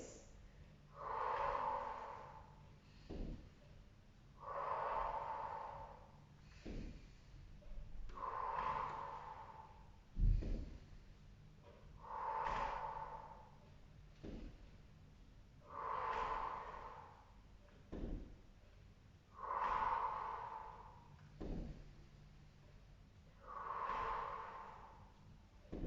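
Slow, deep breaths during an abdominal rehab exercise after childbirth, with about seven long rhythmic exhales at steady intervals, each closing with a brief soft snort, close and quiet with no talk.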